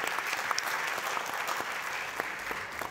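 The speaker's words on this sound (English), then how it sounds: "Please give a hand of applause to our panelists." A conference audience applauds panelists at the close of an insurance summit panel, a dense, steady wash of clapping from many hands filling the hall at even loudness throughout.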